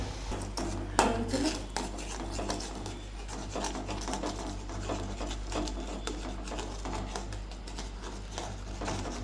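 A utensil stirs semolina into boiling water in a pot while making sheera, producing soft, steady scraping and rubbing with a few light clinks of metal, heard close but faint over a low constant hum.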